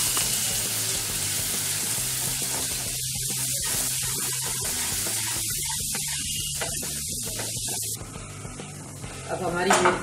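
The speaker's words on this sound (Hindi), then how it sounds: "अब हमारी मिर्ची और जीरा भून चुका है।" Chillies and cumin roast with a little salt in a pan, a steady close hiss with gentle crackling that carries throughout, while a voice speaks in the middle.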